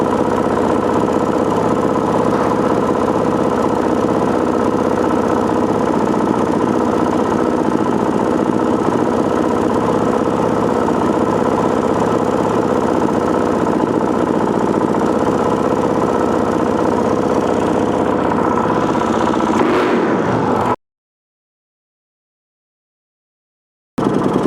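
A Gen II four-stroke engine idles steadily during carburetor tuning, a loud, even, close-up running drone that holds unchanged for about twenty seconds before cutting to silence.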